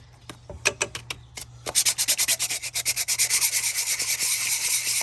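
Rust is scraped and sanded off a car's thermostat housing during a thermostat replacement on a 1996–2007 Ford Taurus or Mercury Sable, first with a few separate strokes and then with a fast, steady rhythmic rubbing, up close with no talk.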